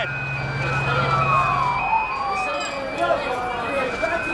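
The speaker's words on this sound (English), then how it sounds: "This ambulance is about 100 feet ahead." An ambulance siren wails through a Manhattan street during the 9/11 attack, its rising and falling tone loud and close amid street noise and people talking.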